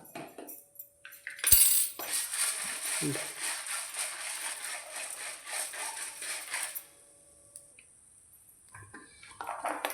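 Fenugreek and mustard seeds are dropped into a hot pan and roast with a bright, crackling sizzle that runs for several seconds, then fades out, with scattered light clinks of a utensil.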